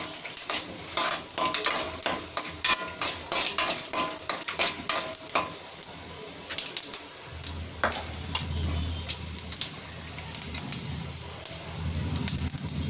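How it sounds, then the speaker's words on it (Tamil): Peanuts and fennel seeds fry in oil in a pan, with a steady sizzle under repeated scraping and clinking of a spoon as they are stirred, the sizzle swelling louder near the end. "நம்ம போட்ட சோம்பு கடலையும் நல்லா ஃப்ரை ஆகிடுச்சு."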